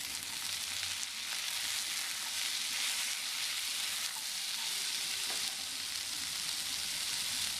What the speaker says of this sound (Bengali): সবজিগুলি একটু ভেজে নিয়ে 2টি কাঁচা লঙ্কা দিয়ে দিলাম